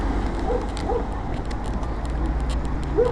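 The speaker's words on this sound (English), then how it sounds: "Dogs barking because the church bells are going off at noon." Dogs bark a few times in the distance beside a coastal road at noon, with scattered yelps over steady background noise and no speech.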